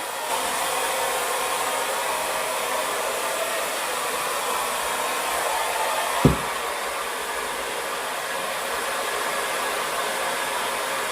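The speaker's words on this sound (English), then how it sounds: "I'll repeat this once I'm done blow drying my hair" A handle-less Chi Dura Handshot hair dryer roars continuously at close range, a steady rushing blast with one brief thump partway through.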